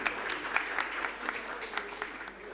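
Applause from an audience at a school ceremony honouring meritorious students, clapping for Dattappa Waghmare and Atul Bhaiya Raut; a steady, dense patter of many hands that holds for a few seconds with faint voices mixed in.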